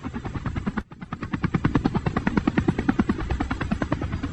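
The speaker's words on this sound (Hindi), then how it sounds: "लगता है हमारे गांव के ऊपर एक हेलीकॉप्टर उड़ रहा है" A helicopter thumps loudly overhead, its rotor beating in a fast, steady rhythm after a brief dip in sound.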